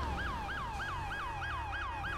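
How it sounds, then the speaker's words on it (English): A police car siren wails in the GTA 5 video game, rising and falling in a steady, rapid yelp about every third of a second. It stays loud and continuous over a low engine rumble, with nobody talking. "I'm trying to like use my siren right now, so hopefully nobody won't hit him"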